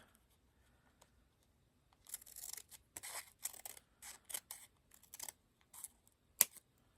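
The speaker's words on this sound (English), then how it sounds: "we're just going to cut a little sliver off the top" Scissors snip a thin sliver off paper for a junk journal drawer, a run of short, crisp close cuts after a quiet start, ending with one sharper snap.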